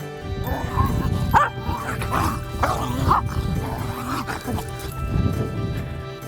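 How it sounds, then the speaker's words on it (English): A playful dog barks and yips repeatedly in bursts throughout, loud and close, with some whimpering and a voice underneath. "when he plays, he doesn't stop barking"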